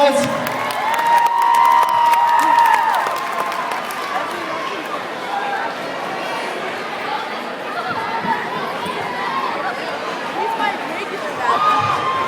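Large crowd of children at a school assembly cheering, shouting and chattering for their teachers, a loud, sustained roar with whoops and some clapping, swelling again near the end.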